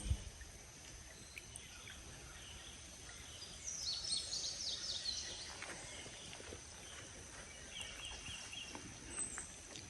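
Faint birdsong drifts in from a distance over a quiet garden hush, with a few short bursts of chirping and no voices.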